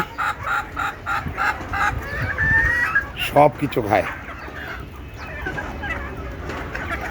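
Desi chickens clucking and calling close by in a loose, irregular series, one crowing-like note in the middle, while someone talks over them.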